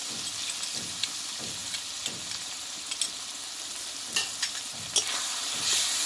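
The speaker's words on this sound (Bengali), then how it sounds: "এই মশলাটাকে ভালোভাবে কষিয়ে নেবো" Spice paste for Bengali mutton curry stir-fried in a pan, a steady bright sizzle with repeated scraping strokes of a spoon, alone without talk.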